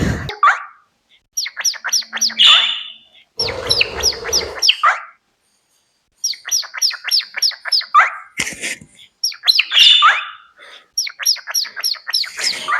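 Pet budgie or cockatiel named Kaya chattering and chirping in rapid bursts of high tweets and warbles, close and fairly loud, with short pauses between phrases and a brief rustle midway.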